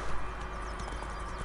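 Horse hooves gallop in the video game The Witcher III, a quick steady clip-clop beat over a broad noisy wash of ambience for a brief moment.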